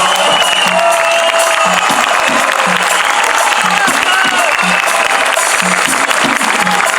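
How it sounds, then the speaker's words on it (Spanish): A live audience bursts into loud, dense applause and some cheering as a guitarist is welcomed on stage. Faint voices rise briefly above the steady clapping. "Un aplauso"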